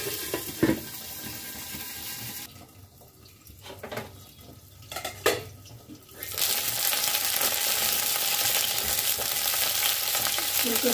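Cauliflower and potato pieces frying in a pan of oil, a loud broadband sizzle that drops away midway amid a few clanks and stirring knocks, then returns strong and steady.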